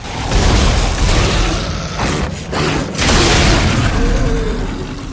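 Heavy gunfire roars loudly in Dead Space 3, deep booming bursts and grinding mechanical churn in a sustained, dense barrage with brief lulls around the middle.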